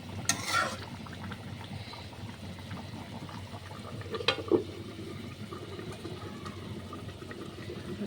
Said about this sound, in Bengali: একদম চিংড়ি মাছটা ভাজছি